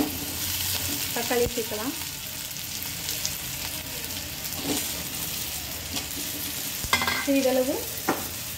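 Ginger, coriander, mint and tomato sauté in a pan with a steady close sizzle, punctuated by a few scraping stirs of a spoon, while a voice speaks briefly.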